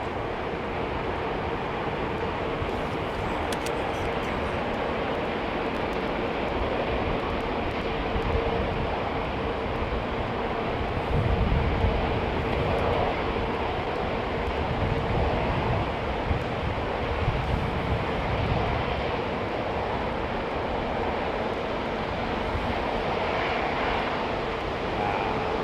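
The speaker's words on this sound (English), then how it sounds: "A330, taxiing out on Sierra" An Airbus A330 airliner taxiing at London Heathrow Airport, its jet engines producing a continuous broad roar that stays steady and fairly distant throughout, with no talking.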